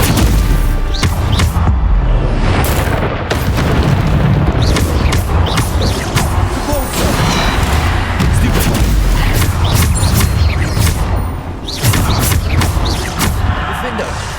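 Rapid, loud Bombarda spell explosions from Hogwarts Legacy, a dense barrage of booms and crashing impacts in combat, with a voice shouting spell names over them throughout.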